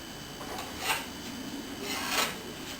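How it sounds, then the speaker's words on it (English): Touch-up sanding on faired seams of a boat hull, a soft abrasive rasping that swells in two brief strokes over a steady low hiss, fairly close and quiet. "I just finished doing all the touch-up sanding"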